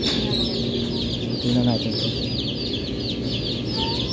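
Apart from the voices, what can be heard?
chickens clucking during beak trimming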